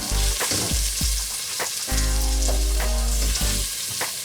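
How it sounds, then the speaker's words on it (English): Vegetables for a Moroccan tagine sizzle and fry in a pot as a utensil stirs them, loud and close, with repeated clattering scrapes over a steady hiss and a low rumbling hum underneath. "we're just gonna stir that around for a while"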